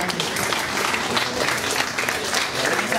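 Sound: audience applause for student award

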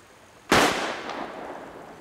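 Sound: gunshots fired in a film scene

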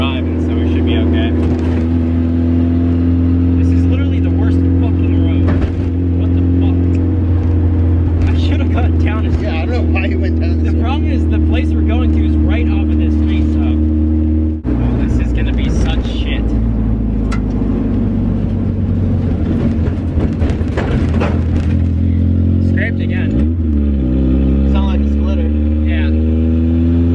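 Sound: cambered Mazda Miata driving on a rough road

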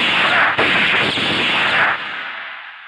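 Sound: gunshots fired into the air, movie scene

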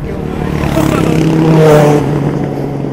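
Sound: engine sound

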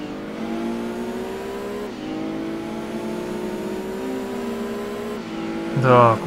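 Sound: mid-engine race car accelerating in video game Gran Turismo 2

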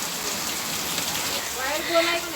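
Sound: heavy rain outside

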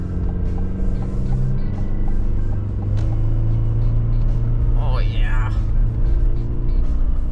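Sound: Chevy 1500 pickup with 2.7L turbo four-cylinder accelerating from standstill

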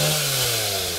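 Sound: chainsaw cutting tree branches by a pond

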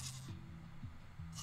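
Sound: goat bleating in Minecraft video game

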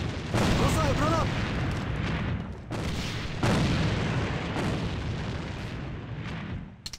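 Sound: grenade explosion in a video game

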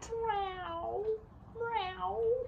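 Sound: voice imitating a cat's meow

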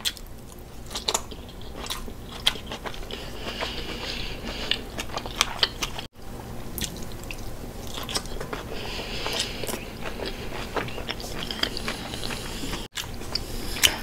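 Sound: chewing red cabbage, sweet potatoes and kielbasa

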